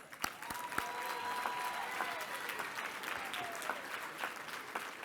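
Faint, distant applause from guests at an awards dinner, a soft, continuous patter of clapping with a few sharper claps near the start and some overlapping voices.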